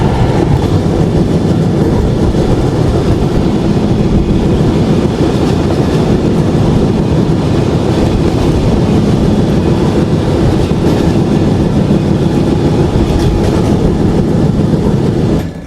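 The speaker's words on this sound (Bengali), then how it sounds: "ট্রেন প্রবেশ করে গেল যশোর জেলার যশোর রেলওয়ে জাংশনে" A passenger train runs over rails in Bangladesh near Jessore junction, a loud continuous rumble with steady clickety-clack of wheels heard from on board, no talking.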